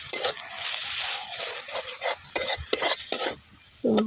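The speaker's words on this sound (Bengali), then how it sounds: "তো নামায় নিব আমি শাকগুলো, আর একটু হোক ভাজা ভাজা।" Leafy greens (shak) frying and being stirred in a pan in a village kitchen, with steady close sizzling broken by sharp scrapes and clinks of the spatula against the metal.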